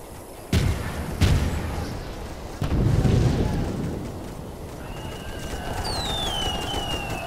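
Artillery fire in Toy Soldiers: three heavy booms land in quick succession near the start, each with a rumbling tail, followed by a softer ambient wash and high whistling tones.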